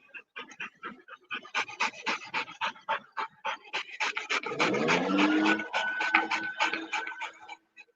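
A dog panting rapidly and steadily close by, quick rhythmic breaths in a continuous run, rising into a louder, rougher stretch with a slight whimper before stopping.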